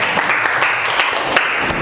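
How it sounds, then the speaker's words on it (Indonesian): Schoolchildren clapping together in a classroom after a lesson, a short burst of fairly loud group applause with a few sharper claps standing out. "Tepuk tangan dulu ya."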